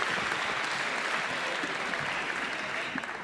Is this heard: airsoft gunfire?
no